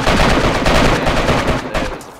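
Gunfire in the video game DayZ, a loud, dense burst of rapid shots lasting about two seconds and filling the clip, with a slight fade at the end.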